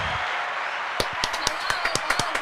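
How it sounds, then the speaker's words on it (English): A podcast audience applause sounds as a handful of sparse, distinct claps over a steady background hiss, fairly close and irregular rather than a full crowd. "Let's give a round of applause for you right now."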